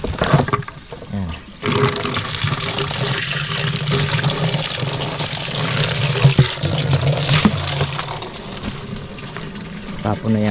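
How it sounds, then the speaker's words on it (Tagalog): Water pours and splashes steadily while coconut and papaya plants are watered outdoors, a continuous rushing flow with some faint speech in the background. "Tapon na yata yung tubig dito."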